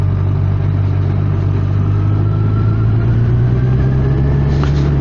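Kawasaki Z1000SX motorcycle engine running steadily in second gear at low road speed, a continuous loud low drone with constant rumble and faint wind, no talking.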